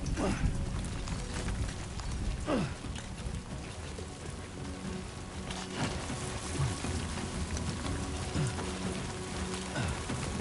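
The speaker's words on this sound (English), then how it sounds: "Great. Rain. Gotta move." Rain patters steadily on surfaces in the Death Stranding 2 game world, a continuous soft hiss with scattered drops, accompanied by occasional brief thuds.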